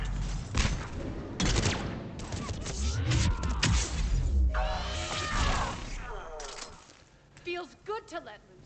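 Gunfire in the video game Mass Effect 3 on Omega: bursts of automatic fire, sharp impacts and crashes, with voices talking over and between the shots.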